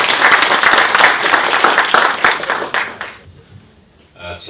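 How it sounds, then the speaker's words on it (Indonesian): Loud audience applause for a guest speaker at a leadership talk event, dense clapping that swells and then fades out, followed by a brief burst of voices at the end. "Bisa kita berikan tepuk tangan kepada Bapak Erick."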